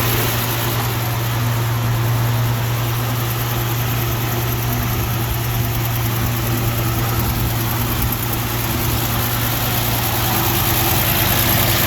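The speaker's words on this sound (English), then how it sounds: "Idling great." A 1954 Dodge pickup with a rebuilt carburetor idles steadily, a low, even engine rumble with a constant hum, loud and close, with no voices.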